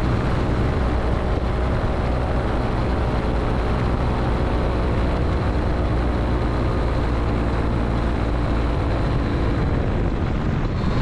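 Aerolite 103 ultralight fitted with bush gear lands, its steady propeller and engine drone filling the whole stretch loud and close, with rushing wind and no voices.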